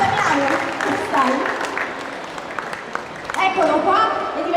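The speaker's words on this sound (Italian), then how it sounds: "Facciamo un grande applauso!" Applause from an audience at a live stage show in Catania, Italy, rising and falling over about four seconds beneath a loud announcer's voice talking through it.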